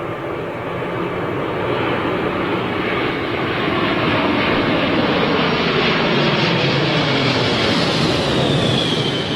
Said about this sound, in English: Boeing 747, here we go, folks.